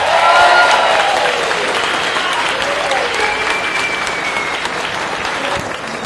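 Applause from a gathered group fills the room, dense and sustained for several seconds and slowly fading, with a few voices faintly mixed in.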